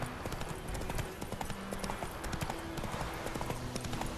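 A horse's hooves clip-clop at a steady walking rhythm in The Witcher 3: Wild Hunt, quiet and regular, with faint game ambience behind them.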